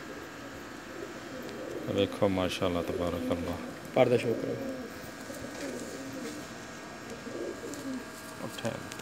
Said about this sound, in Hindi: दुबई वाले कबूतर हैं जनाब